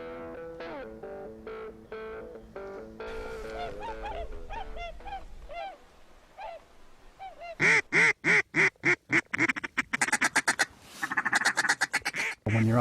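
Ducks quack in a series of loud, close, rapid calls that turn into a sharp staccato burst of quacks, likely from a hunter's duck call, with honking goose-like notes early on and no talk.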